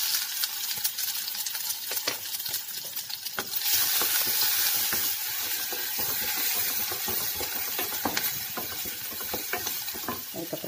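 Garlic sizzles and crackles in hot oil with mustard seeds, whole urad dal and cumin, a continuous frying hiss with stirring scrapes, louder after a few seconds.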